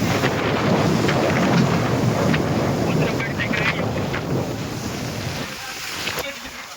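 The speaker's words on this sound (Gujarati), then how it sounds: "જોરદાર વાવાઝોડું આવ્યું" A strong windstorm blows across open farm fields at night, a loud, continuous roaring rush that buffets the microphone and eases off slightly toward the end, with a voice talking under it.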